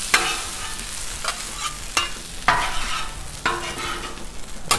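Food is scraped and stirred across a hot Blackstone griddle with a metal spatula. Repeated sharp scraping strokes come up out of a steady frying sizzle, close and clear, with no talking.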